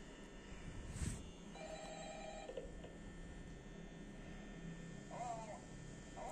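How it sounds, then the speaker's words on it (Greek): Old-fashioned telephone ringing in the horror game Five Nights at Freddy's, with bursts of ringing over a steady electrical hum and quiet game ambience. "τα σπαστικά τηλέφωνα σε παιχνίδια μου σπάνε τα νεύρα"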